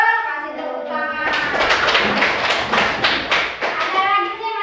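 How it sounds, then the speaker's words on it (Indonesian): A fifth-grade classroom breaks into applause, a dense burst of many children's hands clapping for several seconds, loud and near, with children's voices underneath and an adult speaking before and after. "Kasih tepuk tangan."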